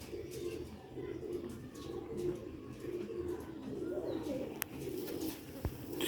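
Original-breed Sialkoti rooftop pigeons cooing softly and repeatedly, low and fairly distant, with a couple of sharp clicks against the steady coos.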